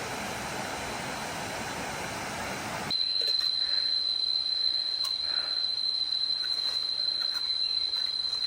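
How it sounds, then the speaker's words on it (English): Loud insects in jungle forest on Koh Samui, a dense steady buzzing drone with a sustained high-pitched whine running continuously throughout, no voices. "It's always amazing to me how loud the forest can get."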